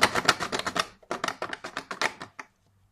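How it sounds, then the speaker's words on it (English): A knife cutting into a plastic ruler in a hardness test, heard as rapid close scraping strokes in two bursts, each stroke a sharp rasp, ending in silence. "let's see how deep this knife can cut into the ruler"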